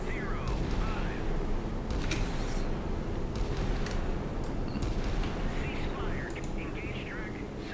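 Naval missile salvo firing in the warship game Sea Power, heard as repeated sharp launch bursts over a continuous low rumble, with voices talking throughout.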